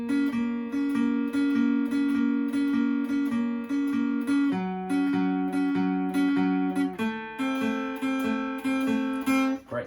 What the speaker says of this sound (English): So when you put this first part all together, it sounds like this.